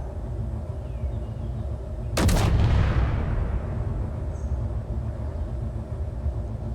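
One sharp, heavy assault cannon blast in Space Engineers cracks out and fades into a rumbling decay over a steady low mechanical background.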